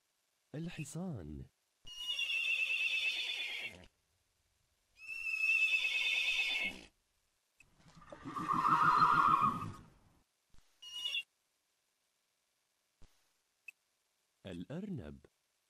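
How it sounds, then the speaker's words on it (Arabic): Recorded horse neighs from an augmented reality animal app play in several separate bursts, each a loud whinny with pauses of silence between, and a voice briefly at the start and end. "الحصان"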